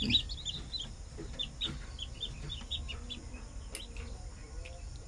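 Newly hatched chicks in a second-hand incubator peep in rapid, high-pitched chirps, close and continuous over a low background hum.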